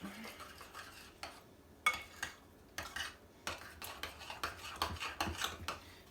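A spoon stirs seasoning into a steak casserole in a pot. It makes a string of sharp metallic scrapes and clinks in an uneven rhythm, close and fairly quiet.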